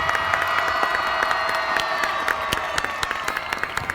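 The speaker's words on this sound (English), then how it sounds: "Let's give the class of 2023 another round of applause" A high school graduation crowd applauds and cheers in a large venue, with steady clapping, whoops and shouts, individual sharp claps popping out toward the end.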